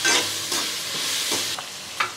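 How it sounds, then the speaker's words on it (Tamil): Raw mango pieces sauté with asafoetida in a hot pan, giving a steady close sizzle broken by a few soft scraping stirs, with no talking. "பெருங்காயம் லைட்டாக வதங்கினோடனே இந்த மாங்காய் எடுத்து போட்டுடணும்"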